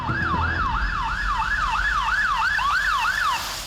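An ambulance siren wails in a steady rising-and-falling cycle, loud and continuous, at the scene of a head-on collision between two cars, with no voices over it.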